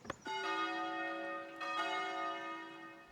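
Church bells in the Foundation video game toll twice, clear and resonant, each strike sustaining a long ringing decay in a quiet setting.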